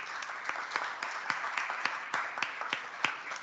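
Moderate audience clapping in a lecture hall at an academic event, a steady patter of many hands with distinct individual claps, heard alone at a modest distance.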